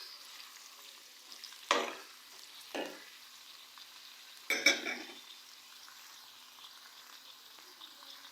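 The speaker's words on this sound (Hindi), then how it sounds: "प्याज को हम लोग गोल्डन कलर आने तक फ्राई करेंगे।" Two medium onions fry in a pan toward golden, a soft steady sizzle underneath a few louder stirring scrapes and clinks of a utensil against the pan, heard close and without talking.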